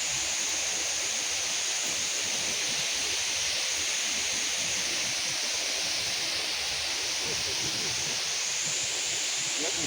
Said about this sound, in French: On est sur un ruisseau là, regarde.